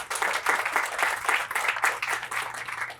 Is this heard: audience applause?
yes